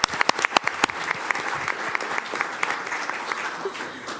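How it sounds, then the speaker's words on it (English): At a school board meeting honoring a graduating valedictorian, a crowd claps steadily, with sharp individual claps standing out at the start and a dense patter continuing throughout. "All right, round of applause."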